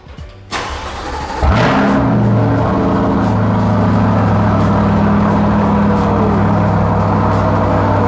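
A Chevrolet Corvette C8 Stingray cold start: a click and brief crank, then the engine catches with a loud rising flare around one and a half seconds in and settles into a steady, deep, fast idle, close by with no talking.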